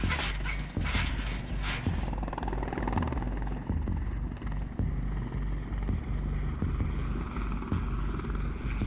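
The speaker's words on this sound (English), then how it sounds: "I like seeing the helicopters fly over our heads." A helicopter thumps loudly overhead, its rotor beating in a fast steady rhythm, with a whining, mechanical edge that fades slightly over time.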